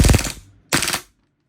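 WE RIS GBBR V3 gas blowback airsoft rifle firing full auto: two close, loud bursts of rapid sharp shots, the first about half a second long, then a brief gap and a second burst of similar length.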